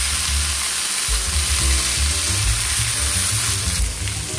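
Vegetables frying in a pan for a fish curry are stirred. A loud, constant sizzle fills the whole stretch, with low stirring thumps underneath.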